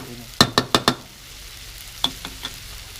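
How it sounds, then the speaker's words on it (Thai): Mixed vegetables and marinated pork being stir-fried, with four sharp, close spatula clacks in quick succession, a pause, then three softer strikes over a low frying hiss. "ผัดผักรวม ใส่หมูหมัก"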